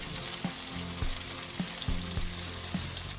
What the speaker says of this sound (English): I'll add some vegetable oil to a pot, and I'll throw in the peppers with a pinch of salt.